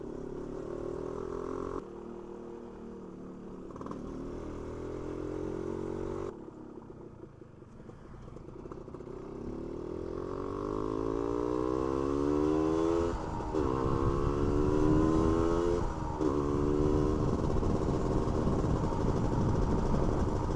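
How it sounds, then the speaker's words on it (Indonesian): A Suzuki RK Cool 110 motorcycle engine, warmed up on a village road ride at about 30 to 40 km/h, hums steadily up close with wind noise, then its revs climb in several rising sweeps as the throttle opens. "Oke, mesin sudah hangat, udah agak enak digas."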